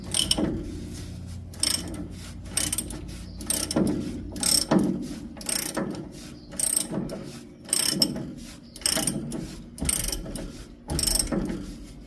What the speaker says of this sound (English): put a 9/16 wrench on the top and just crank it out